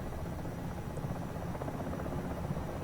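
A Comanche helicopter in a video game, its steady rotor and engine drone filling the whole stretch at an even, close level with no talk.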